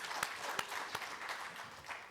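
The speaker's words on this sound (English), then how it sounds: "So another round of applause to all our" An audience at a conference panel on pandemic preparedness and field epidemiology claps for the panelists in brief, moderately loud applause with a few distinct sharp claps.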